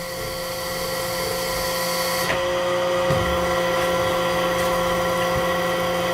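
A metal lathe cuts steel with a steady, high-pitched whine carrying tonal harmonics, continuous and close up, with a small shift in pitch partway through as the cut changes.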